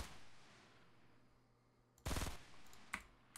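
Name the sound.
gunshot fired in Fortnite video game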